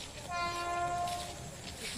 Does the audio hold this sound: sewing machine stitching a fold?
no